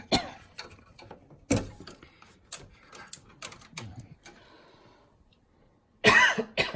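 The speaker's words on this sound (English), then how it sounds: "I don't know why I'm coughing so much" A man coughs several times in close, harsh bursts, mixed with throat clearing and small clicking and handling noises from taking apart a desktop PC, ending in a loud cough.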